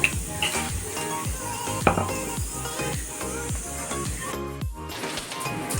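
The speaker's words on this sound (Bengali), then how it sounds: "আর দিদি ওখানে সব লুচিগুলো ভেজে নেবে" Luchi deep-fry in hot oil in a home kitchen with a soft hiss, broken by frequent sharp clanks and knocks of metal utensils against the pan, close and busy throughout.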